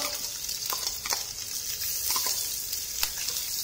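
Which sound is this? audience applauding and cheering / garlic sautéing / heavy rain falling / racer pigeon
garlic sautéing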